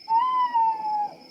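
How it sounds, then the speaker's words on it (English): One sustained, gently wavering owl hoot from a cartoon nature scene sounds close and clear over near silence, then fades out. "That's an owl."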